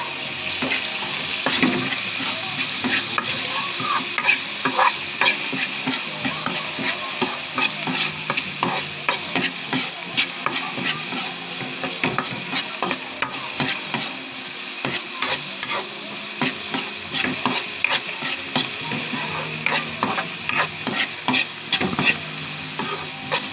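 Chopped tomatoes stir-fry in a hot pan for a home-cooked seafood dish, giving a steady close sizzle broken by frequent scraping and clacking from a spatula.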